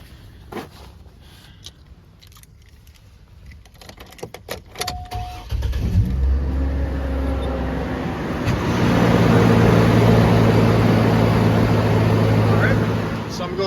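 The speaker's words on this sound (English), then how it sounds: "let's go ahead and start the car" A Chevrolet Blazer's engine cranks and fires up, settling into a loud, steady idle that rises a little, following a few clicks and knocks.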